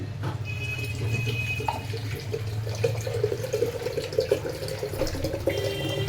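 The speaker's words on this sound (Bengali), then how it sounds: "এই বাটাটা আমি ঠান্ডা জল দিয়ে, এর মধ্যে ঠান্ডা জল দেব। এই যে ঠান্ডা জল দিয়ে দিচ্ছি।" Cold water runs steadily into a ground paste for a summer sherbet, a continuous close splashing and trickling pour with no speech over it.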